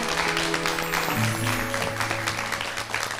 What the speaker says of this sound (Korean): 씨에게 큰 박수 부탁드립니다.